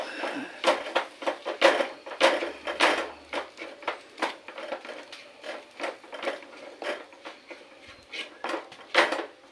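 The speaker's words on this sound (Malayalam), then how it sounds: "ഇനി നന്നായി ഒന്ന് ഇളക്കി കൊടുക്കുക." A spoon stirring masala for a fish curry in a cooking pot, giving a close series of irregular metallic clinks and scrapes at a moderate level, with no voices.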